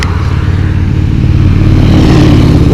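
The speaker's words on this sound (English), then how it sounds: "Now we get this while the car runs by." A car drives past on Skyline Drive, its engine a loud, close, steady rumble that swells slightly as it goes by, with no speech.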